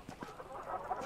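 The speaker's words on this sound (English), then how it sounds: "Chickens!" Chickens cluck in short soft bursts in the video game Black To Fall, a few quick clucks followed by a faint murmuring cackle, fairly quiet and alone.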